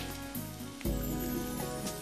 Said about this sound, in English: Whilst the onions are frying